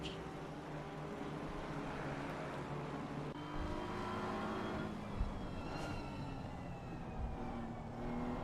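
Lexus and BMW GT3 race cars in an ACC sim-racing sprint at the Nürburgring, engines droning and accelerating steadily at moderate distance, with a continuous layered roar and no voices.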